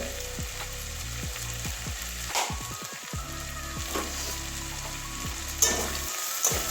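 Potato, carrot and spring onion sizzle in a pan, seasoned with garam masala and being mixed. A close, steady frying hiss runs throughout, broken by a rhythmic run of spatula scrapes and taps against the pan, with no speech.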